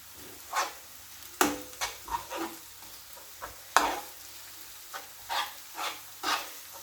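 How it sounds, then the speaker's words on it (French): Onions sizzle softly in a pan for a Ramadan stuffed-bread recipe, broken by several stirring scrapes and clacks of a utensil, fairly quiet and close. "Je vais les laisser réduire un petit peu. Enfin, les oignons, il faut qu'ils retombent un peu."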